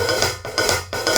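Hi-hat played in a steady rhythm, opening and closing in a pattern, with a regular pulse of brighter open wash dipping to short closed gaps, fairly loud and close with no talking.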